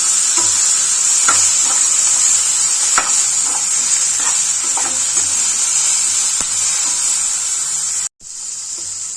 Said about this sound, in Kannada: ಟೊಮೆಟೊ ಸಾಫ್ಟ್ ಆಗೋವರೆಗೂ ನಾವು ಫ್ರೈ ಮಾಡ್ಕೋಬೇಕು